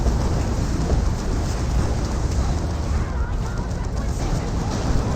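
The Mega Rumble ability in the Dawn of War strategy game gives a dense, rumbling, crackling roar like a thunderstorm, loud and continuous throughout.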